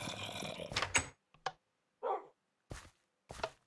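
Short barks and yips of a puppy dog in the video game Hexxit come in several separate bursts. One sits under a longer stretch of other game noise at the start, and the rest stand alone with silent gaps between them.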